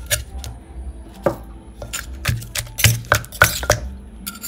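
A knife slices tomato on a cutting board while a Thai cucumber salad is prepared, giving a series of irregular, close chopping knocks and clatters with brief gaps, heard alone without talk.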